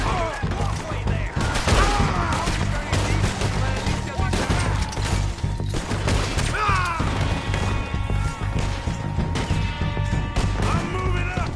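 Dense, rapid exchanges of gunfire from a shootout in the video game Red Dead Redemption 2, cracking repeatedly under a steady musical score with occasional shouted voices.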